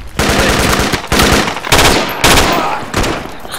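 Automatic weapons fire in rapid bursts in the military shooter game Project Reality, several loud close volleys separated by brief pauses.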